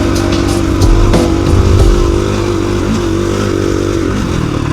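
A KTM 350 EXC-F dirt bike rides off across a dry lakebed in the desert, its engine loud and close with a steady drone and a couple of brief revving surges, no talking.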